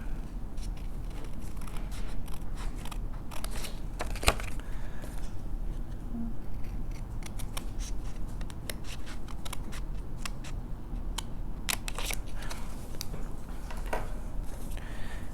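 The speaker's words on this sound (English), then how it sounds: "Now again, I'm going to trim around here." Scissors trimming around a sticker and frame on patterned paper for a mini album, a continuous close run of snipping and rustling cuts with frequent sharp clicks of the blades over a steady paper hiss, no talking.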